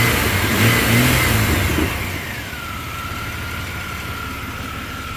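A truck engine drops from a fast rev back to a steady low idle of about 650 to 700 RPM, its pitch sliding down midway and then holding as a constant hum with no talking.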